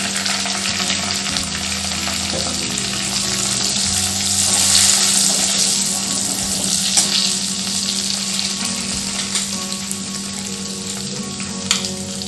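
Vegetables, diced potato and spices such as asafoetida and coriander-cumin powder sauté in hot oil for a mixed dish of twenty-one vegetables. A loud, steady sizzle runs throughout, with occasional stirring scrapes and no talking.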